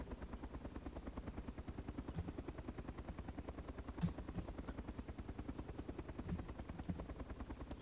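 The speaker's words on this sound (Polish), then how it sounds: "Stary, ja mam helikopterek teraz." A helicopter in the video game DayZ whirs steadily with a rapid, even rotor chop throughout, faint and distant-sounding, with a couple of brief sharp clicks.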